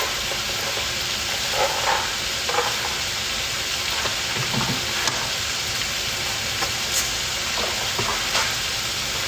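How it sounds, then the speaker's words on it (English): Spaghetti goes into a pot on the stove amid a steady loud hiss and sizzle, with a few soft knocks and rustles scattered through; continuous, close, and with no talking. "I'm gonna go ahead and throw the spaghettis in there."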